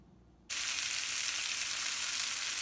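Marinated quail hit shallow coconut oil in a pan, and after a brief near-silence a loud, bright sizzle bursts in and holds steady close up, with no talking.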